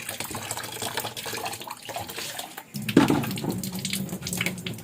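Tap water runs into a sink while something is being washed, a splashing stream that surges louder partway through, heard alone without talk.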